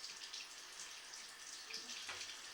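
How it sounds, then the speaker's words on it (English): Water running from a hall bathroom sink through 3-inch ABS plastic drain pipe, a faint steady trickling and gurgle heard from inside the pipe, with a brief low knock near the end. "We are running some water from the hall bathroom sink"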